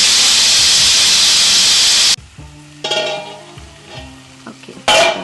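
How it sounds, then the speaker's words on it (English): Onion cooks in a pan with a loud, dense hiss of steam for about two seconds. It then drops to a quiet sizzle before a brief loud burst returns at the end. "onion has been cooking for about 2 minutes"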